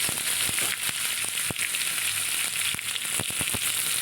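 Whole garam masala and bay leaves fry in hot oil for a mutton-head curry, a dense continuous sizzle broken by sharp spitting pops and stirring clicks at close range, without speech.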